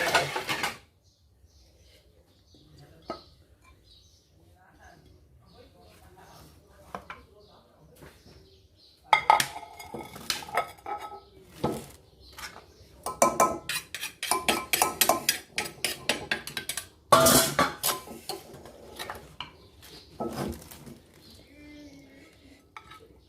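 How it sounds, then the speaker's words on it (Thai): Shrimp som tam with dried chili scooped onto a serving plate: close clinks and scrapes of utensil against dish in irregular bursts, some loud and sharp, with quiet gaps between. "จะมาตักใส่จานเสิร์ฟกันเลย"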